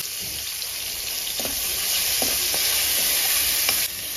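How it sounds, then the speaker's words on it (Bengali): Prawns frying in hot mustard oil, with a strong continuous sizzle and a few soft knocks of stirring in the pan. No voices are heard. "যেহেতু মাছটা ভাজবো তাই সরষের তেলেই রান্নাটা করবো"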